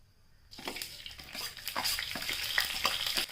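Oil heating in a pan for tempering poha, sizzling and crackling after a quiet start, with clinking stirring sounds and steady close frying hiss that grows a little louder.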